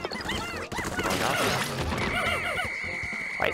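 Gold-covered gems shatter in Olimar's Shipwreck Tale amid a busy burst of chirpy, warbling game effects, followed by a bright sustained ringing tone near the end.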